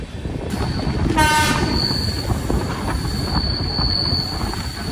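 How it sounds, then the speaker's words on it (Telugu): A goods train rolls steadily past a station between Nandyal and Giddalur in the Nallamala forests, wheels clattering and squealing, with a long horn blast near the start; no voices. "ఏదో ట్రైన్ ఉంది, వ్యాగ్ 9 గూడ్స్ అనమాట."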